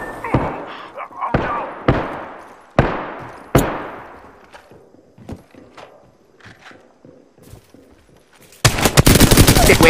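Gunfire in Apex Legends: several loud, sharp single shots with decaying tails, followed by quieter scattered impacts and a dense burst of rapid fire at the end.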